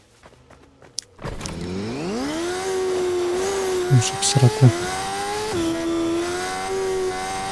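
A moped in the video game Fortnite starts up and its engine revs up into a steady buzzing drone, with a few sharp knocks partway through. A voice speaks briefly near the start.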